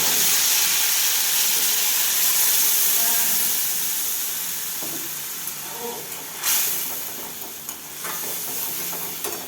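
Spice paste of tomato, onion, ginger and garlic hitting hot oil in a kadai, a loud hissing sizzle that slowly eases, with stirring scrapes near the end.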